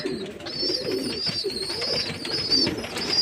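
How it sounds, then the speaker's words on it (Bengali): Pigeons coo continuously and close by at feeding time in the afternoon, a dense, layered chorus of throaty calls from several birds at once, steady and fairly loud with no talking. "বন্ধুরা সব পায়রা জলদানো দেওয়া হয়ে গেছে"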